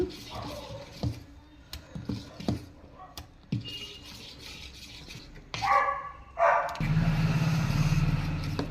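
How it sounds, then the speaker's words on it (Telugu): A big dog in front of a village house barks in a series of sharp, fairly distant yelps and woofs, irregularly spaced, followed by a steady sizzle-like hiss as a cooking pan heats in the kitchen. "మా ఇంటి ముందు అయితే పెద్ద కుక్క ఉందండి. అది ఒకటే ఊరికి అరుస్తూనే ఉంది ఇందాక నుంచి."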